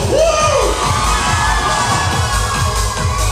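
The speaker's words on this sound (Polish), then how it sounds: "wszystkie dziewczyny razem głośno krzyczą ze mną" A crowd of girls at an outdoor concert scream together loudly and continuously, a dense, sustained wall of high-pitched shrieking and cheering.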